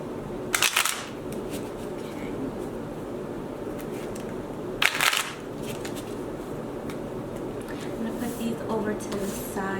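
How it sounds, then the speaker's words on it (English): A deck of tarot cards is shuffled by hand in soft papery riffles, with two sharper bursts of shuffling standing out from a constant low rustle, close, while a person talks. "please be cautious because I'm going to be shuffling"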